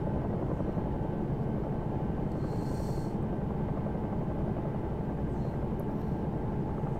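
Simulated Bell 222 helicopter in the X-Plane 11 flight game, a steady droning rotor and turbine hum at constant level throughout, with no talk.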